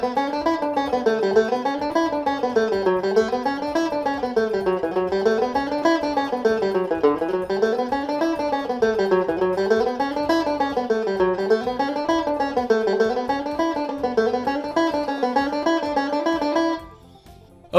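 A banjo plays a nine-note scale exercise in reverse, a long unbroken stream of bright plucked notes climbing and descending in regular wave-like patterns, close and alone until it stops near the end.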